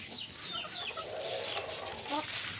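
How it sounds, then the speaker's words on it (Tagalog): Shamo and native chickens cluck and chirp while being fed, in quick, overlapping bursts, close by, with a small flurry of higher peeps among them. "Kain muna tayo ng mga alaga nating manok"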